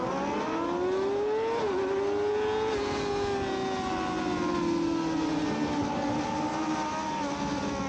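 Yamaha R6 sport bikes roar away at an amateur open sprint race start, a continuous high engine whine climbing and shifting pitch as the pack accelerates, heard loud and close with no speech.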